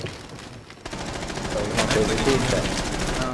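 Gunfire in the video game Rainbow Six Siege rattles in bursts after a quiet start, sounding somewhat distant and continuous, with players talking over it.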